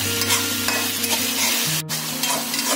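Steady sizzling of chicken frying in hot oil with onions and ginger garlic paste for curry, loud and close, with a constant crackling hiss and a brief sharp clatter near the end.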